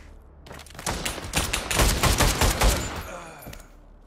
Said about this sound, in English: I shot that traitor